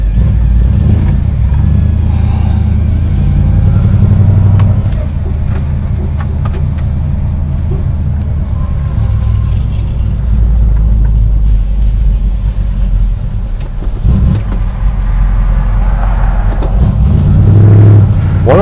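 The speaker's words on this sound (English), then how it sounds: "One of the fun things having a somewhat built engine with a decent sized cam in it and a stock torque converter is it doesn't like to idle at intersections" 1973 Dodge Dart Swinger with a built engine and decent-sized cam, driven in traffic: a loud, lumpy low rumble throughout, surging and easing with occasional throttle blips.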